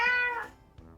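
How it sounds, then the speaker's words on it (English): A single clear cat meow, drawn out and falling, sounds close and alone. "it's a cat"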